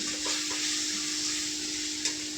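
Mashed potato chutney with coriander powder sautéing in a pan, a steady close sizzle with faint scraping and a steady background hum, no talk.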